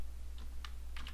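Keys tapped on a computer keyboard while entering parameters into Civil 3D software, a few quick clicks in short irregular bursts over a steady low background hum.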